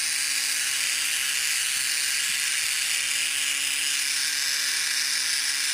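A sanding drum grinds steadily against a cracked cast iron block of a John Deere 4.219 diesel engine, a loud, constant high-pitched whine with an underlying hum and no talking.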